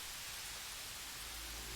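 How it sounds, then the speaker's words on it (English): Rain falls steadily in the fantasy role-playing game Pathfinder: Wrath of the Righteous, a dense, even hiss of downpour that fills the whole moment without pause. "it's raining."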